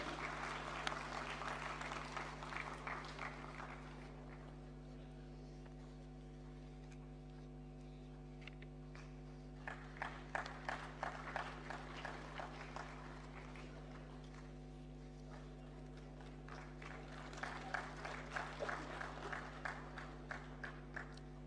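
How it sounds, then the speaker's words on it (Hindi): Audience applause at an education summit in India, heard in three separate rounds of clapping over a loud steady electrical hum, moderately distant and fairly faint, with quiet gaps between the bursts. "आप सबसे अनुरोध कि तालियों की गड़गड़ाहट बनाए रखें"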